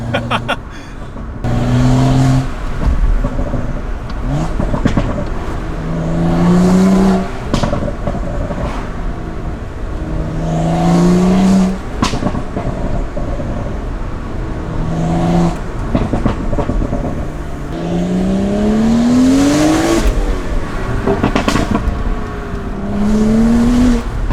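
A BMW E82 135i with full bolt-ons making about 370 horsepower accelerates hard on the street, its engine loud and close as it repeatedly revs up through rising pitch sweeps with quick drops between shifts, no talking over it.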